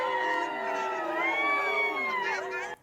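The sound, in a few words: party workers cheering an election victory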